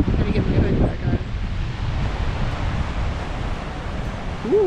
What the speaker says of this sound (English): it's getting a little bit windier again